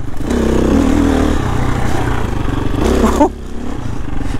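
An enduro motorcycle ridden over motocross terrain, its engine loud and close, holding a steady drone with a brief rev and clatter near the end.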